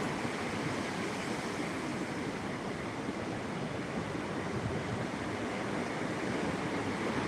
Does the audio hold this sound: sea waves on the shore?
yes